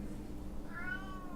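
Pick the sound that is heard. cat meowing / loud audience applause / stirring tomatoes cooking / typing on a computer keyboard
cat meowing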